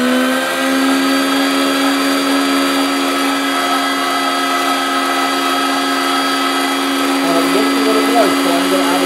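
Electric mixer whirring steadily as it mixes masa dough for a masa cake enchilada, a loud constant motor drone held at the same pitch throughout, close and unbroken.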